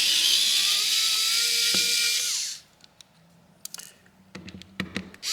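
An electric screwdriver removing screws from a FoxxD A67L phone, a close high-pitched motor whine running for over two seconds, then stopping, followed by small clicks and taps of screws and tools being handled.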